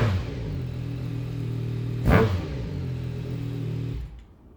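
A 2025 Yamaha YZF-R9 sport bike with an Arrow WSS full exhaust idles with a steady low rumble, then gives one short sharp rev around the midpoint before settling back and dropping quieter at the end.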